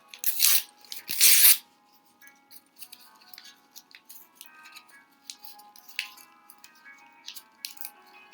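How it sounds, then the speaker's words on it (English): Paper being ripped up by hand, two loud close tears at the start followed by a stretch of softer crinkling, crunching and small rips as the paper is handled and twisted. "I'm just starting to rip up the paper and maybe I'll twist it."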